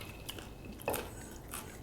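Crunchy chewing of a kale and cabbage salad with large cabbage pieces and carrots, a few close, soft bites and crunches, one sharper crunch near the middle and another toward the end, with no talk.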